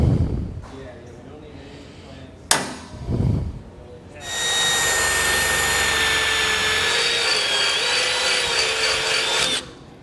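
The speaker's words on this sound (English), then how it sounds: "then we'll drill this hole out to the final size" A power drill bores a 1/2 inch hole through a trailer coupler for a fold-away hinge kit, starting with a few short taps and knocks, then a loud steady high-pitched whine that runs for about six seconds before stopping.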